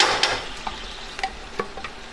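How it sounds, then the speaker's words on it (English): Vegetables sauté gently in hot oil for a marinara sauce, with a soft steady sizzle under scattered light clicks and taps of a spoon stirring the pan. "Now that my oil is nice and hot, I add my vegetables. And I just saute them gently"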